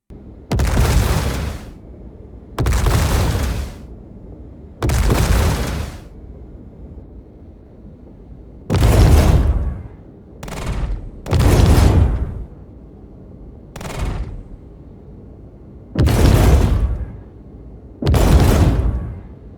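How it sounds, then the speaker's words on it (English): Ship guns on the RSI Meteor fire in Star Citizen, a series of about nine heavy booming blasts with deep rumbling tails, loud and close, spaced irregularly with quiet gaps between them. "There's a little clip of those guns firing."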